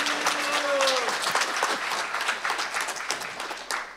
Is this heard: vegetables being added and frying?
no